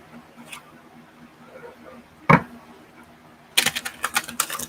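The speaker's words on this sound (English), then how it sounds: "I can almost shuffle these cards in my hands." Tarot cards being shuffled by hand, a quiet soft riffle near the start, one sharp slap midway, then a dense burst of rapid papery flicks and snaps toward the end, close and fairly loud.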